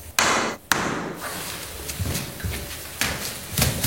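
Sharp, loud hammer strikes ring out while drill holes are started in bathroom wall tile, single blows at irregular intervals with quieter tapping between, close to the microphone.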